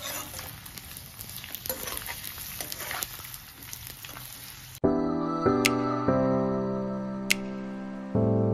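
Capsicum fries lightly in a pan for about five seconds as a soft, steady sizzle with scattered small pops and clicks. Loud tonal music then takes over.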